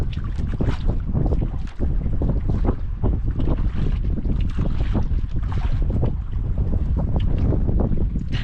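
Strong wind roars without letup over the open sea from a small fishing boat, a loud, steady gusting rush buffeting the microphone for the whole stretch.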